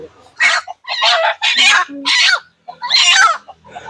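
Several desi chickens cluck and squawk in quick, uneven bursts during vaccination, close and fairly loud, with brief pauses between the calls.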